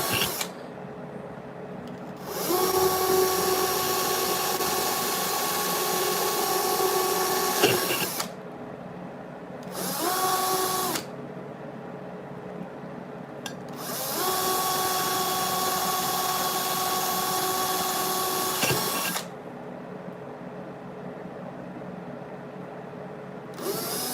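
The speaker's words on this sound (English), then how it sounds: "The reason I do hand drilling too is because I find I have a lot more control with it" Battery-powered drill with a step bit whining as it bores by hand, in several sustained runs of several seconds each with short pauses between, the motor pitch dipping under load, close and clear without talk.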